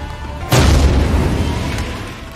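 A single loud explosion booms out in an action film after a short lull, then a long rumbling decay fades over the following seconds.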